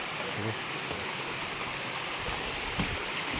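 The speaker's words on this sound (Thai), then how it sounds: "ได้ยินเสียงน้ำแล้วไหมครับ ท่านผู้ชมนี่น้ำตก" Steady rushing water roars continuously, a broad even hiss of Huai To waterfall, running low in June, heard close by, with faint talk briefly underneath.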